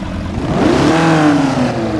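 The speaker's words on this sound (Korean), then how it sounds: "제가 시동 한번 켜보겠습니다. 스타트!" A small two-seat car engine cranks, catches and revs up, its rising mid-range roar filling the clip steadily and close without any talk.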